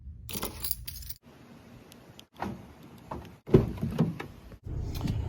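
Car keys jangle briefly, close and moderately loud, alongside clunks and rustles as someone climbs into a pickup truck, with a short quiet gap partway through.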